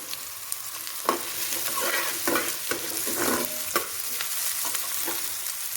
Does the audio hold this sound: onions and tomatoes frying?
yes